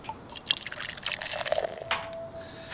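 Gasoline pours into the fuel tank of a '32 Ford hot rod with a Nailhead engine, a close splashing and gurgling trickle with small drips running for a few seconds, fairly quiet.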